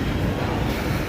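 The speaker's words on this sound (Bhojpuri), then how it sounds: "ट्रेन अब खुल चुकी है" Rajya Rani Superfast Express pulling out of platform 2 at Saharsa Junction, a steady broadband rumble of a departing train with low wheel and carriage noise, continuous and fairly close, no talk.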